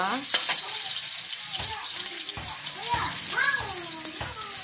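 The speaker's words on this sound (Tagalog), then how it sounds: "Bawang, sibuyas, ginisa." Garlic and onion sautéing in a pan for a stir-fried corn dish, a continuous close hiss of frying with occasional stirring clatters, while someone talks over it throughout.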